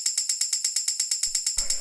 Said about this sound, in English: This is a really straightforward tambourine,